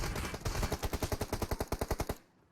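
Rapid automatic gunfire in PUBG Mobile on Erangel rattles out as one sustained burst of about twenty evenly spaced shots, loud and close, then cuts off abruptly.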